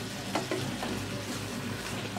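Native chicken adobo fries in oil in a pan, giving a steady, close hiss of sizzling with faint stirring scrapes underneath and no voices.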